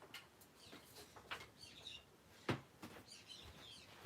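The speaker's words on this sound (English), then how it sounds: "I don't know if you can hear the birds again out there, but they're rather noisy" Birds chirp and tweet outside, a series of short, high calls scattered through a quiet indoor room, with brief sharper calls now and then and no talk.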